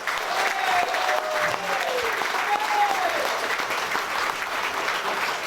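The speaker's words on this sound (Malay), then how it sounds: "Beri satu tepukan gemuruh" Audience applause fills the whole stretch at a ceremony honouring a contributor to taxi drivers, steady and fairly loud, with a few faint tonal whistles or cheers riding on top.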